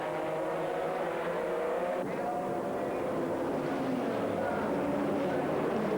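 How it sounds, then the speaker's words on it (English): A GT race car from the 2001 FIA GT championship runs on the circuit with a steady, loud engine drone that holds for the whole stretch and never fades, with a slight shift partway through. "And in comes the Carsport Holland car, and that is into the pits again for its second stop."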